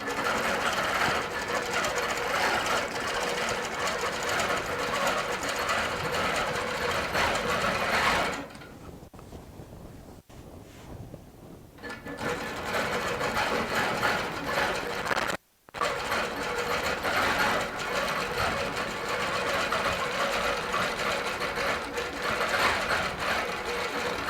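Baby Lock Regent sit-down long-arm quilting machine stitching, a steady close mechanical whir at high speed, briefly slowing and quieting midway and stopping for an instant before running on.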